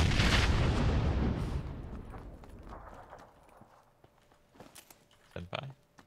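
A grenade blast in the battle-royale game PUBG booms loudly at the start, then its rumble decays over several seconds, followed by a few faint clicks and footstep-like sounds.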